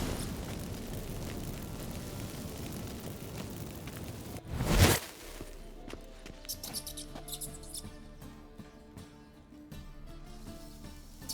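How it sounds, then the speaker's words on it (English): A magic fireworks spell set off from incense in The Witcher 3 bursts with one loud whooshing blast, followed by scattered sparkling crackles and pops over a low game ambience. "Get ready for some magic fireworks."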